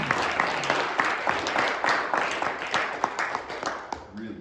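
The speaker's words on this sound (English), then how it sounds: "Let's give her a round of applause" Audience applause after a student's humanities presentation, a dense spread of many clapping hands with sharper individual claps standing out, fairly steady and fading near the end as a voice comes in.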